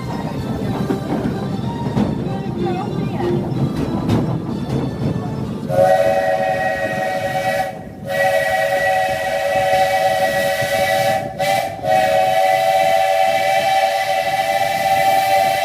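A sustained, steady train whistle blows loudly over a busy rumbling theme park background at Magic Kingdom's Adventureland, briefly cut off twice before continuing.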